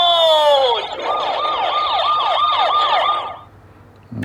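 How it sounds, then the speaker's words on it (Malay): A toy robot fire truck plays an electronic siren, a brief falling tone followed by a rapid, close warbling wail that cuts off abruptly. "ada bunyi lori bomba"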